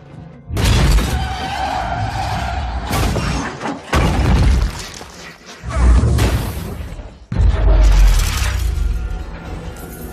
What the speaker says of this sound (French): d'un seul coup, boum, gros bruit d'explosion juste derrière